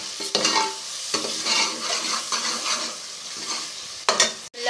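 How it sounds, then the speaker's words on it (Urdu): Spices and onions frying for kadhi pakora, a bright sizzle with repeated scraping strokes of a spoon against the pot, close and loud, ending in a sharp clatter, without talk. "مسالے ڈال دیے, اب ہم اس کو بھونیں گے اچھی طریقے سے کہ ہمارا پیاز جو ہے وہ بالکل گھل جائے"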